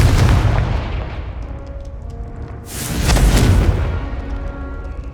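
A Confringo explosive spell from Hogwarts Legacy bursts with a loud, close boom that rumbles away, followed a few seconds later by a second crackling blast.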